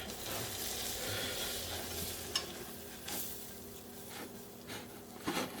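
Flour is stirred into melted butter in a pan over low heat, a steady gentle sizzle with a few scraping spoon or whisk strokes, close and without talk.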